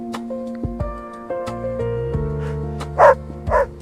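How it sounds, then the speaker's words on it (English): A dog barks twice near the end, short sharp yaps standing out over a steady backdrop of sustained musical tones. "Dog."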